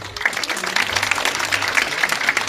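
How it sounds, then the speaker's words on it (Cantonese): Guests at a wedding celebration applaud the newlyweds with dense, continuous clapping. It stays full and steady through the whole short stretch, with no voices over it. "我哋再一次俾啲掌聲一對嘅新人"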